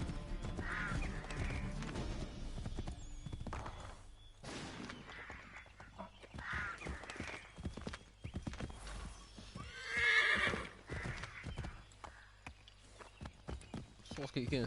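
Hoofbeats clip-clop and a horse whinnies in Assassin's Creed 3, mixed with a busy game soundscape that includes a rooster and other background noise, while a person talks over it.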